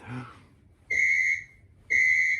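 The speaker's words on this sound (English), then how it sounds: "we've got a synthesized whistle over there." A synthesized referee whistle sounds twice, each a clean, steady electronic tone lasting about half a second, spaced roughly a second apart, loud and close over a quiet background, after a brief murmur at the start.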